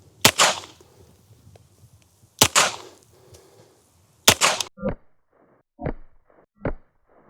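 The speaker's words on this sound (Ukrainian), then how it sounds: "Переходимо до стрільби з 5 метрів." A FORT-12R traumatic pistol fires rubber bullets at five metres. Three sharp, loud shots ring out about two seconds apart, followed by a few quieter knocks and clicks.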